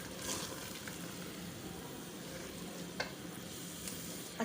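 Keema with peas (keema matar) fries in a pan, a soft, continuous sizzle heard close up. A couple of small clicks from stirring cut through near the end, with no talking.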